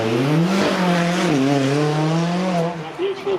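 A V8 supercar at Beaulieu Supercar Weekend launches hard and pulls away down the track, its loud engine note rising steadily through the revs before easing off at the end.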